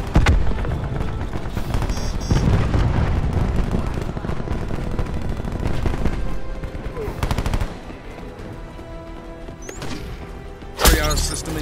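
Tempest weapon firing in the Call of Duty video game, heard as dense sustained bursts of game gunfire and blasts with music and effects layered throughout, plus a sharp loud crack near the end.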